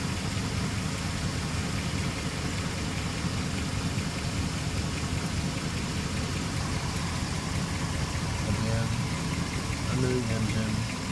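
A 2006 Jeep Commander 4.7-litre SOHC V8 idles steadily once fully warmed, with a faint odd noise from under the engine on the driver's side sitting inside the continuous low rumble; brief muffled sounds appear near the end.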